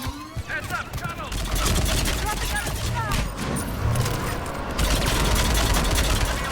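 An enemy mounted gun hammers away in the sci-fi shooter Mass Effect 3, a steady loud stream of rapid automatic fire under combat noise, with voices speaking over it.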